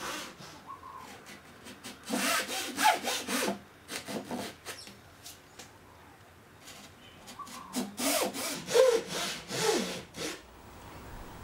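Hand saw cutting kumiko wood strips down to a 4 mm depth mark, heard as two bursts of quick, steady back-and-forth strokes with a short pause between them, close and fairly quiet.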